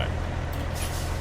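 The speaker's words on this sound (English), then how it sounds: "Air brakes." Air brakes on a truck in American Truck Simulator let out a short, sharp hiss that swells briefly over a steady low engine rumble, with no voices.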